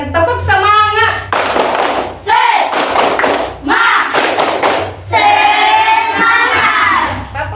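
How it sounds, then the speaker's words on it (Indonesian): A classroom group of teachers and students performs a rhythmic spirit clap, loud bursts of patterned hand claps in quick sets, alternating with chanted voices. "saya dulu berikan tepuk semangat"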